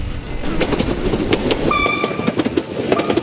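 A train passes close by on railway tracks, loud rumbling with rhythmic clickety-clack of wheels and a brief squealing metallic tone partway through.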